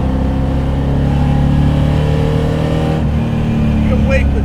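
Loud, steady engine roar from an LS V8-swapped 1988 Mitsubishi Starion, droning continuously at close range with a slight lift near the end.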